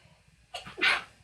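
A single sneeze from someone with hay fever in an indoor room: a short breathy intake followed by a loud, sharp burst that fades quickly, over a faint low background hum.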